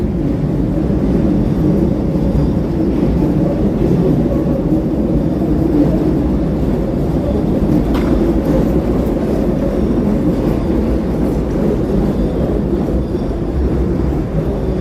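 A Chicago L Brown Line train passes on the elevated tracks with a steady, loud, close rumble and clatter that fills the whole stretch without letting up. No one speaks.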